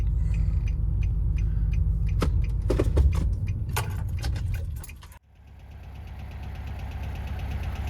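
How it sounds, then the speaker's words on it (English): A Volkswagen Beetle's engine rumbles steadily as the car is driven up onto a trailer at night, with keys jangling and clicking over it before the engine note drops sharply and settles into a quieter run. "I get to drive the Beetle up."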